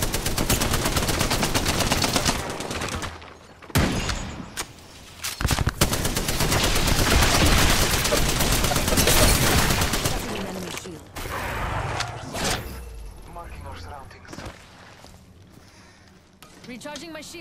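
Dense gunfire in a first-person shooter, loud rapid automatic bursts and overlapping shots nearly filling the stretch, easing off near the end into scattered shots and game sounds.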